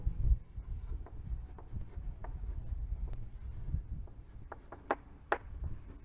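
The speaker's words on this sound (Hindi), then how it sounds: "तो यहाँ हम लिखेंगे" Chalk or marker scratching across a board during a Class 11 maths lesson on Venn diagrams: steady, faint scraping strokes, with a few sharper taps and squeaks near the end and no speech.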